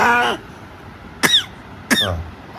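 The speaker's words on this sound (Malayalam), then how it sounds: "ഇങ്ങനെ ചുമയ്ക്കും തൊണ്ടോണ്ട് ഇങ്ങനെ കാറും എന്നിട്ട് ചുമക്കും" An eight-month-old baby coughs once, then gives two sharp throat-clearing coughs after a pause, close and clear against a quiet room.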